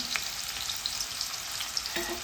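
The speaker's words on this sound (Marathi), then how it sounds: "तेल गरम झालेलं आहे त्याच्यामध्ये एक बारीक चिरलेला कांदा घालून घेणार आहे" Finely chopped onion and pounded garlic frying in hot oil in a pan, a steady bright sizzle crackling close by with no talk, a small stir or scrape near the end.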